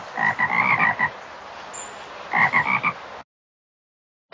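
Two bursts of rapid, rhythmic frog croaking from a children's video game, a pause of quiet between them, clear and close, ending abruptly in silence.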